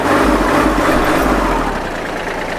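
The diesel engine of a used Kubota L3408 tractor is running at idle close by, with a low, even rumble and a faint mechanical clatter, steady and loud over a few seconds.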